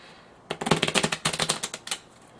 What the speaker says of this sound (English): I'm going to do a riffle shuffle such that the face-up cards are mixed in with the face-down